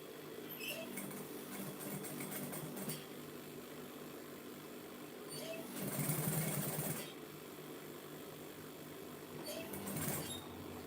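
Sewing machine stitching fabric for a drawstring gift box for chocolates, a steady close motor whir with brief louder bursts of stitching, no talk.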